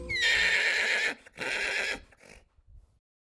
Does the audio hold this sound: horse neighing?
yes